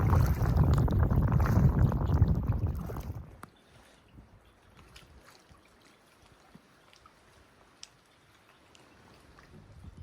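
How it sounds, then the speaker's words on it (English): Wind buffets the microphone aboard a trawler at sea off the British Columbia coast, a loud rumbling roar for about three seconds that then drops to a quiet background with faint scattered clicks. "It's pretty breezy out here."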